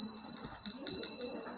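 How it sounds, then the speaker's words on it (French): A bell rings in a few bright, evenly spaced strokes, ringing out clearly over a quiet background. "C'est la cloche encore."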